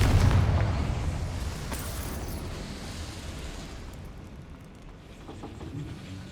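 In Hogwarts Legacy, a Confringo fire spell explodes, a loud boom up front that rumbles and fades away into a low, steady roar over several seconds, with no speech.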